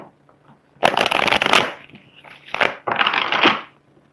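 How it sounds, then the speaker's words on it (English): Tarot cards are shuffled in two loud, close bursts of riffling and flapping, split by a short pause and a few soft card taps, with no speech. "Let's go ahead and pull another card."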